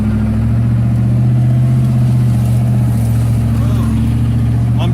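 A truck engine crawls slowly along a rough, muddy dirt road, giving a loud, steady low drone with a throbbing hum and little change in pitch throughout.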